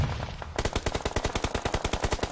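Automatic gunfire rattles in a PUBG Mobile esports match at the 2023 SEA Games, a short burst followed by a long, rapid, evenly spaced volley of loud shots, with no voices.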